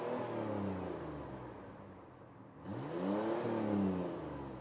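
A 1999 Ford Ranger engine revs hard, climbing to high RPM, easing off briefly, then sweeping up again in a second loud, close rev with a rising whine.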